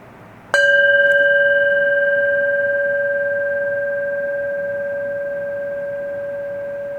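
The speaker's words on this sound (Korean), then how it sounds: "자, 우리 종소리 한번 들어볼게요." A bell is struck once during a Buddhist dharma service. The single clear, ringing strike holds steady pure tones that decay very slowly and sustain for several seconds in a quiet room.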